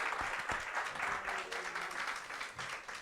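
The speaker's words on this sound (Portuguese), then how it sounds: "Bata palmas para eles." An audience claps for a team at an Easter gathering quiz, a moderate, fairly even burst of applause from a modest-sized group, heard at a distance and somewhat quiet.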